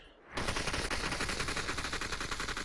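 Sustained automatic AK rifle fire in the VR shooter Population: One, a loud, rapid, continuous burst of evenly spaced shots that begins abruptly and runs without pause.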